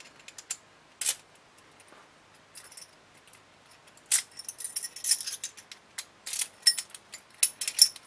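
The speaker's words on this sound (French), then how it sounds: "Donc on teste avec la clé." A key works an OKIDOKEYS door lock cylinder with faint clicks, metallic jangles and ratcheting mechanism sounds in short irregular bursts, near and otherwise quiet.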